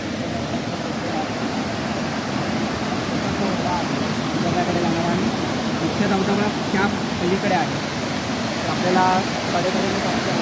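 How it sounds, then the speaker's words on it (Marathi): Vanlakshmi waterfall near Vangni during the monsoon, a steady broadband rush of falling water that holds close and loud throughout, with someone talking over it. "मित्रांनो आता आपण पोचलो आहे धबधब्याच्या इथे"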